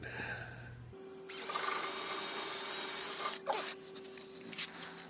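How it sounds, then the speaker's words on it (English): A power drill with a 3/16 bit whines steadily for about two seconds at close range while installing a Husky table kit, then stops, leaving a low hum and a few small clicks. "we are going to get to drilling. It's a 3/16 drill bit."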